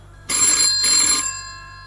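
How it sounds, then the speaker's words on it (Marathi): Telephone ringing in a suspense audio story, two close, loud electronic ring bursts in quick succession, with no voices. "फोन वाजला"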